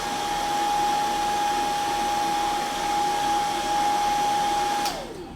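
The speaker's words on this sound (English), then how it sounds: "I use the hairdryer so much my blue tack's hot." A hairdryer blows steadily with a constant whine and airy roar while used for crafting with blue tack, running loud and close before abruptly switching off near the end.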